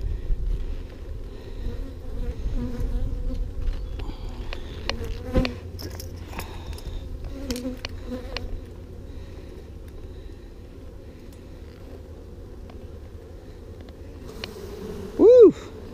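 Honey bees buzzing around an open hive during an inspection, a steady dense hum with individual bees droning past close by and light handling noises scattered throughout.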